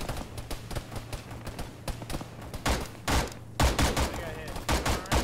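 Bursts of rapid gunfire crackle through a military shooter game battle, with sharp shots clustering louder toward the end, mixed with radio-style voices talking over the action.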